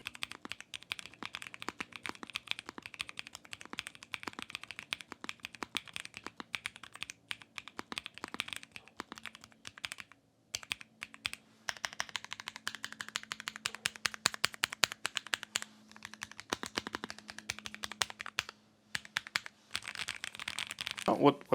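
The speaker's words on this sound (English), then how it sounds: "let's do the sound check." Typing on a LEOBOG K81 mechanical keyboard with linear switches gives a quiet, close stream of soft clacks. Irregular bursts of keystrokes carry on with brief pauses, alone.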